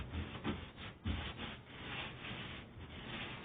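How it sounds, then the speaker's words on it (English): Sanded wood on a rustic American flag build is wiped down with a cloth to clear off the particles. Close, soft rubbing strokes come in a steady, repeated rhythm. "Just give it a wipe down."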